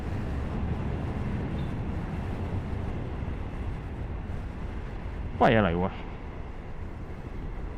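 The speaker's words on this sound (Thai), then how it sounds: "นั่นไง รถไฟมาแล้วทุกคน" Passenger train 284 from Chuk Samet to Bangkok arriving, heard as a steady broad rumble that fills the whole stretch, with a brief spoken exclamation near the end.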